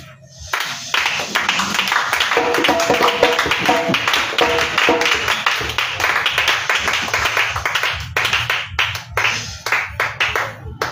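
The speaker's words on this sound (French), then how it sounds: "Est-ce qu'on peut applaudir?" Loud, brisk clapping from a congregation at an Easter prayer vigil fills the room, with musical tones underneath, thinning into scattered individual claps near the end.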